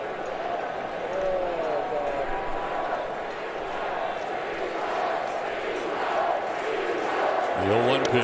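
A crowd at a 2010 ALDS baseball game between the Rangers and the Rays chants "replay" with a steady roar through the stadium, while a commentator speaks over it.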